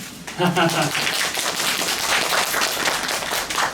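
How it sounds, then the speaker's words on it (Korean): An audience claps during a stage greeting after a performance of the musical Red Garden, a dense, steady patter of many hands kept up throughout, loud and close, with a voice speaking briefly near the start. "박수 한번 치고 할까요?"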